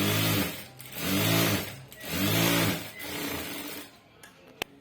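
A sewing machine stitching blouse fabric runs in three close, loud bursts of rapid motor-driven needle chatter separated by short pauses, then falls quiet apart from a sharp click near the end.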